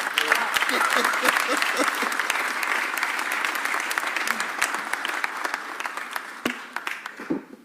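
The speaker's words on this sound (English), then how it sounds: "Put your hands together for my partner." A crowd at a Philadelphia civic announcement applauds loudly and steadily, tapering slightly toward the end, with some voices mixed in.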